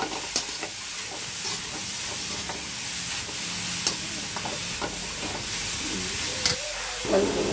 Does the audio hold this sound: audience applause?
no